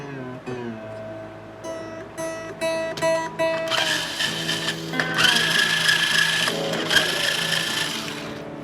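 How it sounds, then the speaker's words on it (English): Strings on a B.C. Rich N.J. Series guitar being loosened, with tuning pegs turned and strings ringing and sliding in pitch, a busy run of metallic twangs and clicks close up. "Okay, so I'm going to loosen these strings up again."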